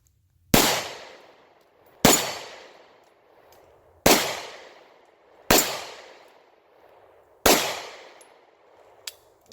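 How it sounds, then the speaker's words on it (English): Five sharp pistol shots from a Bond Arms Bullpup loaded with Hornady Zombie Max ammunition, fired at steady intervals of about one and a half seconds on an outdoor range, each crack decaying into a short echo. "now we're going to try some Hornady Zombie Max ammo"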